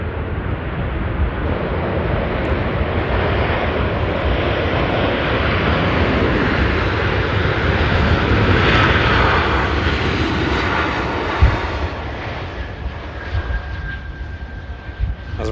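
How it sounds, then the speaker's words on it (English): A cargo Boeing 747 from Atlas lands at Manchester Airport, with a loud, steady broadband jet roar that holds at full level for the whole stretch and fades slightly near the end, with no talk over it. "That was a very skippy landing there."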